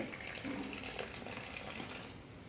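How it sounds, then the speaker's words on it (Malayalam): Tea poured back and forth between a cup and a glass, raised higher with each pour to froth it; a steady, close splashing liquid stream runs continuously without pause. "ചായ ഒഴിക്കുക പിന്നെ ലെങ്ത്ത് കൂട്ടി കൂട്ടി ഇങ്ങനെ കൊണ്ടുവന്നാൽ"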